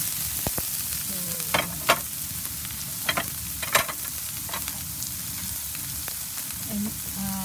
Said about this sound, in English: I put all together the garlic and the onion.